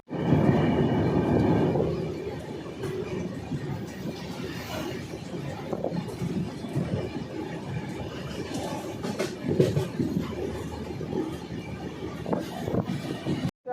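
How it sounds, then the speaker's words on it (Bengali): A train pulls into Kathua station in Jammu and Kashmir, with a steady rumbling roar from the carriages that slowly eases off, broken by clanks and rattles, then ending abruptly. "আমাদের ট্রেন এসে দাঁড়ালো কাটুয়া"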